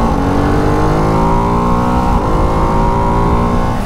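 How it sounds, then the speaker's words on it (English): A Ducati Hypermotard 698 Mono RVE single-cylinder motorcycle revving loudly and close, its steady engine note rising and falling without any speech. "Time to test ride the Ducati HYPERMOTARD 698."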